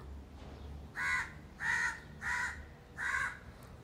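Four harsh crow caws in a slow, even series, fairly close, over a quiet background hum with no talking.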